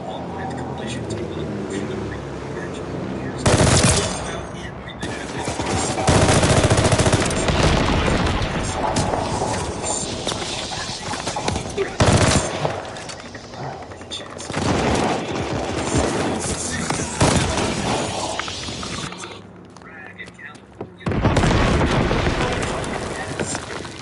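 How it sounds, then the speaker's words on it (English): Call of Duty battle audio with a friendly bombing run and gunfire: repeated loud booms and machine-gun bursts, continuous and chaotic, with strong blasts around several points and brief quieter gaps. "Friendly bombing run on the way."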